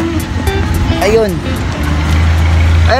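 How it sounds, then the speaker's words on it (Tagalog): A jeepney travels along a road between Cavite and Biñan, Laguna, its engine giving a steady low rumble with road noise throughout, heavier toward the end, while people talk over it. "May biyahin ng jeep, no?"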